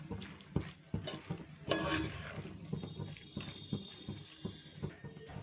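Masala macaroni pasta stirred with tomato sauce in a pan, soft irregular scraping and clacking of a spoon over a faint sizzle, close but quiet.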